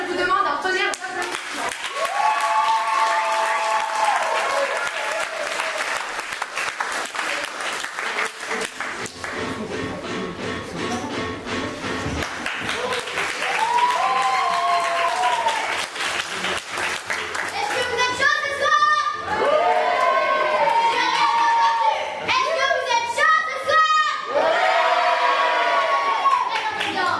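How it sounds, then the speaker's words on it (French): A theatre audience at a dance-course show electing Miss Stage de Danse 2024 bursts into sustained applause with cheers and whoops rising and falling, while a presenter's voice and children's voices carry over the clapping. "je vous demande un tonnerre d'applaudissements"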